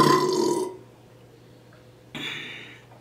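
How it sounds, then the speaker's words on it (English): A loud, long burp from a woman during an eating session, then a short pause and a second, briefer belch, with no talking over it. "I literally burp so many times a day"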